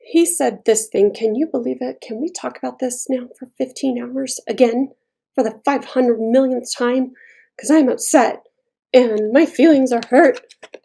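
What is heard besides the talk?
No everyday noises stand out.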